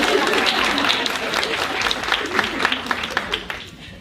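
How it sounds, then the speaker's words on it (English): Audience applause at an awards dinner, a brief burst of many hands clapping that swells and then thins out and fades after a few seconds. "Applause."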